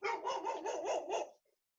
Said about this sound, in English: My dog's got a bad attitude, and all of a sudden she's barking at people.